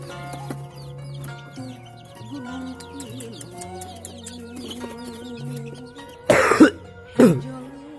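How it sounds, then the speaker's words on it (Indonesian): Backyard pet chickens cluck softly and steadily around a rural house among many trees. Two sharp, loud coughs break in near the end. "Pipiaraan uing ayam."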